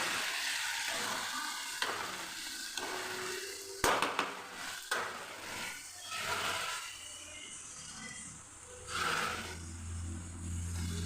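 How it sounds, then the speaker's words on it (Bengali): Egg curry masala bubbles in a pan while it is stirred, with soft scraping and sizzling and a few louder clanks of the spoon. "আর এখন একটু নেড়ে তারপরে ডিমটা দিয়ে দেবো"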